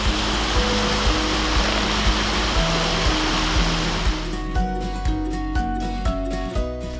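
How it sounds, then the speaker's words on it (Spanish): A waterfall below the Ventisquero Colgante hanging glacier near Puyuhuapi roars in a loud, dense, continuous rush, with a steady tonal hum and regular clicking taps underneath, and the water fades sharply toward the end. "Después del tropezón, llegamos a la cascada."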